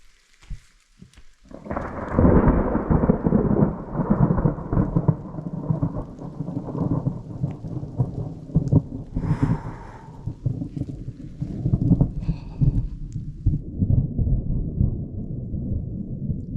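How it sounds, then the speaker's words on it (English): Thunder rumbles loud and close over steady heavy rain during a dry lightning storm at a remote Alaska cabin, big drops pattering while deep rolling booms swell and fade across the whole stretch. "Y'all hear the thunder?"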